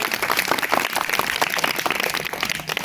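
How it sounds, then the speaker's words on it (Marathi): Steady, dense applause from a crowd of schoolchildren at a village school quiz competition, continuous and fairly loud throughout with no voices on top. "दुसऱ्या फेरीसाठी एकदा जोरदार टाळ्या वाजवा सर्वांसाठी."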